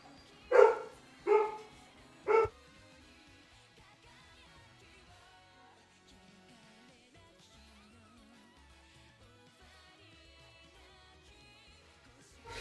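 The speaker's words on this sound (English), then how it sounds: "so the dogs are just going to go ape shit for a minute" Dogs bark three times in sharp, loud, close bursts about a second apart at the start, then fall quiet as faint game music plays on underneath.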